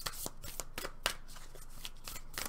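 A Moonology Oracle card deck is shuffled up close, giving a quiet series of crisp riffling flicks and soft slaps in quick irregular rhythm, with no talking.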